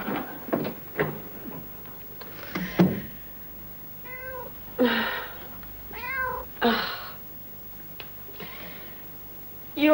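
A cat meows repeatedly and clearly, several separate drawn-out calls spread across the stretch, with a few knocks or cupboard-like bumps between them in a quiet indoor room.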